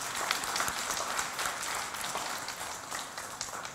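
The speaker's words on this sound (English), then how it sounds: "I think they deserve a big round of applause" A webinar audience applauding the presenters, faint, steady, rain-like clapping from many hands that continues through the short stretch, heard at a distance and at low level.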